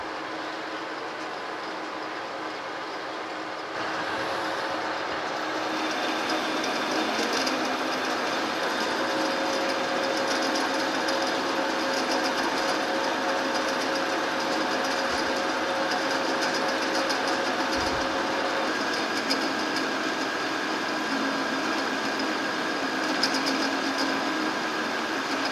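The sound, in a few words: machining a new shaft for a metal planer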